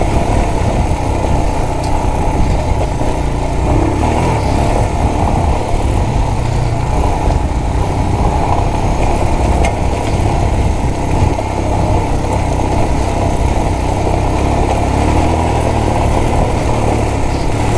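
Royal Enfield Himalayan motorcycle engine running steadily on an off-road track along old military roads in the Alps, a continuous loud low-pitched rumble throughout with no talking.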